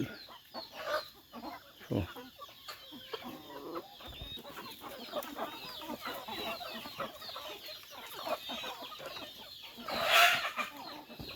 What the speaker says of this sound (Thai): ไก่ขี้ดื้อ